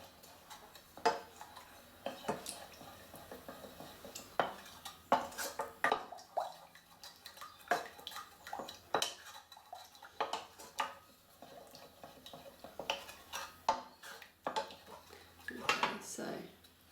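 Spoon scraping and clinking against a pan while stirring a lumpy flour-and-water paper mache paste, steady irregular knocks and scrapes close by, with occasional voice in the background.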